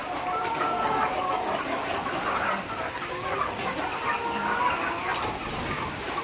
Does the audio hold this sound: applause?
no